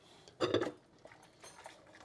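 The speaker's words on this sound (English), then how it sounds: "I'm coming around here and cleaning all of the dishes right here." Dishes being hand washed at a kitchen sink, a brief clatter of dishware near the start followed by soft scrubbing and light clinks, close and quiet.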